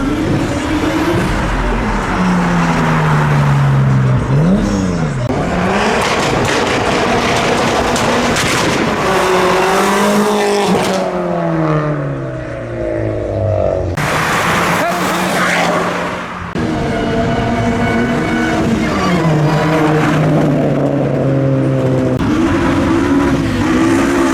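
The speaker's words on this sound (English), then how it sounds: "Oh, the Skyline is leaving with its wheels." A Nissan Skyline R34 pulls away at a night car meet, its engine revving up and shifting through rising pitch sweeps, loud and near, with people talking over the engine noise and other cars around.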